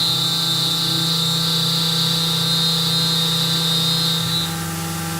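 A CNC mill cutting at 50% feed rate on a camera spinner part gives a loud, steady machining drone with a piercing high whine that holds for several seconds, then fades as the cut eases near the end.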